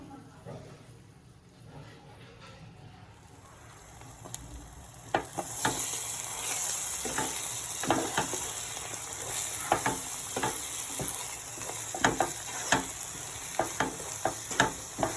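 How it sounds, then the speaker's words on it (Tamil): Four beaten eggs are poured into a hot pan for egg rice, then fry with a steady sizzle that swells halfway through, broken by repeated close clicks and scrapes of stirring. "நாலு முட்டையை அடிச்சு வச்சிருக்கேன், அதை ஊத்திடலாம்."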